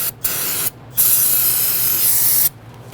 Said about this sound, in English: go ahead and spray it down with a solvent